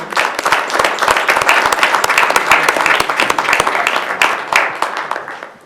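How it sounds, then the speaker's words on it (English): Audience applause fills a city council meeting chamber, a dense steady patter of many hands clapping at close range that tapers slightly toward the end. "how about a round of applause for Emma and Emily?"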